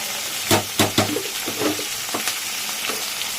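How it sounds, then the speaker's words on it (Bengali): A spatula stirs fish curry seasoned with salt and turmeric in a pan, giving several sharp scraping strokes over a low continuous sizzle, with the stirring thinning out toward the end. "এটাকে ভালো করে নেড়ে দেবে।"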